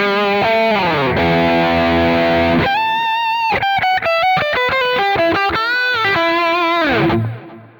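A distorted electric guitar plays a lead line, sustained notes and quick runs with heavy overdrive, loud and continuous before fading out at the end.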